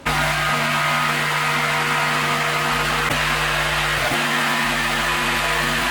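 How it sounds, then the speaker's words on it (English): A pressure washer cleaning an area of old concrete, its engine droning loud and constant with a steady spray hiss throughout, close by, no talking. "I'm going to quickly start pressure washing this area here"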